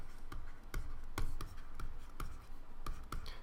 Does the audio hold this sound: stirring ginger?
no